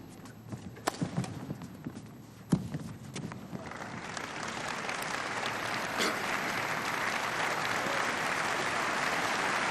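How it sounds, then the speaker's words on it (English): Audience applause at a 1976 All England badminton men's doubles match, building from scattered claps into steady, sustained clapping from the crowd that swells and holds to the end. "a good and a well-deserved round of applause for the Swedes"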